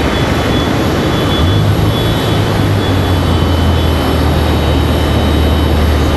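A JetBlue Airbus A320-200 airliner's engines give a loud, continuous jet rumble with a low droning tone that rises in partway through and holds steady to the end.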